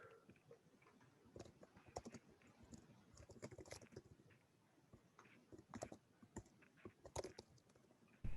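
Keyboard typing during an online group video call, a steady run of quick irregular clicks and taps, faint and close, with no talk over it.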